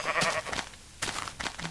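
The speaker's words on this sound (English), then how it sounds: "Or is that a sheep? Oh, that's a sheep." Sheep bleating in Minecraft, two or three nasal bleats in quick succession, close and fairly loud with no talk over them.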